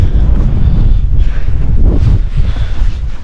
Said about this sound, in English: Quite windy. Yeah, very windy.